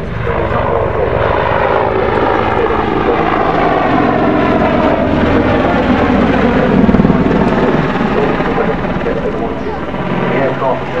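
AAC Apache attack helicopter flying a display at Farnborough International Airshow 2012, a loud continuous rotor and engine roar sustained throughout with a commentator talking over it on the public address.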